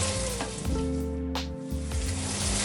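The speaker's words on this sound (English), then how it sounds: "I'm just going to add the rest of my herbs. We're going to stir it." Reduced sauce with herbs sizzling steadily in a pan on the hob while being stirred, a dense continuous frying hiss with a low hum underneath and a brief scrape of the spoon partway through.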